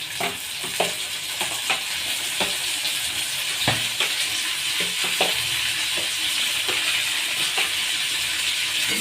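Chopped tomato sautés with peas and peanuts in a pan for vegetable upma: a steady, close hiss and sizzle broken by frequent clicks and scrapes of a spoon stirring.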